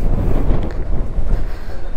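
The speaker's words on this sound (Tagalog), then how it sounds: "Malakas ng hangin!" Strong wind buffets the microphone on a mountain road ride with motorcycles, a steady loud low rumble with gusting surges throughout, no clear voices.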